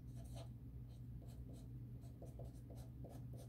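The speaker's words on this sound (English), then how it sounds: "I'm writing them next to each other." Someone writes on a board during a math lesson on multi-step equations, the pen or chalk making soft, rhythmic scratchy strokes in short bursts against a quiet room hum.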